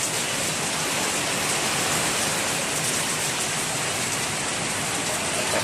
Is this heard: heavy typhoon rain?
yes